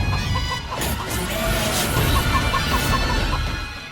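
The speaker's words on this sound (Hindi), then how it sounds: "तो मैंने इतने सारे मुर्गे मंगा लिए" A crowd of chickens and roosters clucking in an indoor house setting, a dense continuous flock murmur with scattered louder clucks, fairly loud and close with no talking.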